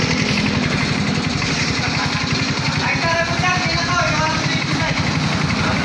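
A motorcycle engine idles steadily throughout, with a continuous low chugging pulse at close range while the fuel system is being cleaned.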